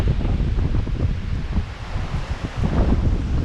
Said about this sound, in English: We're probably getting gusts a lot higher.